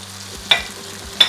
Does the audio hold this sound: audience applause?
no